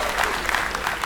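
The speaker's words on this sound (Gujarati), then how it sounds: "તાળીઓ થઈ જાય. Come on." Brief burst of steady audience applause on a comedy talk show, a short wash of clapping.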